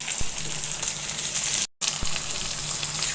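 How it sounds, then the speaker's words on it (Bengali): Onion and green chili fry lightly in hot oil for a Bengali chorchori of Malabar spinach, ash gourd and dried fish, giving a close, steady sizzle with a brief dropout midway and no talk. "পেঁয়াজ মরিচ হালকা ভেজে নিয়ে"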